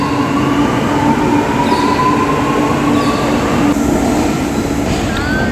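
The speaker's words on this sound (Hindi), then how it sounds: "so basically we are taking this metro for Koyambedu station" Metro train running through an underground station, a loud steady rumble with rail noise and faint wheel squeal throughout, no talk.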